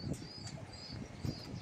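A pigeon's wings flap in a few quick bursts, close by, as it lands amid low background noise.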